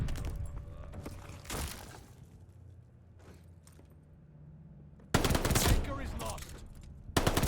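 MP40 submachine gun bursts in Call of Duty Vanguard: loud rapid automatic fire in several bursts, with a long sustained volley near the end. Game voice lines play between bursts.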